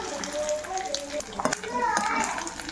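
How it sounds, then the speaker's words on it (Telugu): Bommidalu fish deep-frying in oil, giving a steady sizzle and crackle throughout, with clattering from pans and children's voices and chatter over it. "టూ మినిట్స్ బొమ్మిడిల ఆయిల్లో డీప్గా ఫ్రై అయిన తర్వాత వీటిని తీసుకోవాలి బయటికి"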